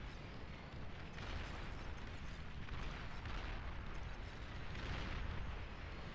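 Rocket fire and explosions in the strategy game Beyond All Reason form a continuous dense barrage of booms and blasts, loud and rumbling throughout without a break, with no voices.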